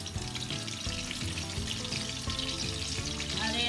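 Sri Lankan mothaham and kozhukattai fry in a pan over a lowered flame, turned to the other side, with a dense continuous crackling sizzle throughout, close and steady.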